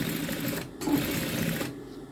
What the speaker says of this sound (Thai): นี่ยังถือว่าเย็บช้านะคะ